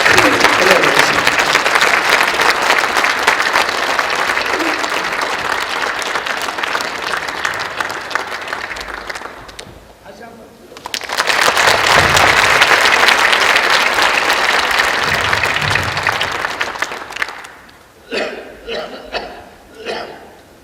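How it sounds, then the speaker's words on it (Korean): A congregation claps warmly to welcome an 88-year-old pastor: a long, loud burst of applause, a brief dip, a second sustained round, then a voice speaks as the clapping dies away. "목사님 나오실 때 뜨겁게 박수로 환영해 주시고"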